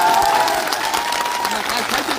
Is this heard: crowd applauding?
yes